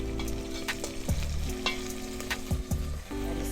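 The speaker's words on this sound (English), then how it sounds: "now the chicken is starting to sizzle" Chicken pieces for tinola sizzle steadily in a pot over an outdoor backyard fire, a dense close frying hiss with occasional stirring scrapes and a steady low hum underneath.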